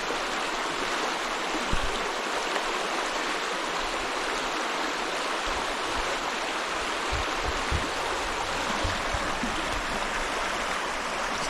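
A creek flows through forest along Alaska's Eagle River Greenbelt Trail, its water rushing in a steady, close, continuous wash with no voices.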